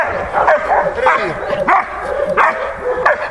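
A dog barking on command during dog training, around five sharp, loud barks at a steady rhythm, close by, with a handler's voice talking alongside.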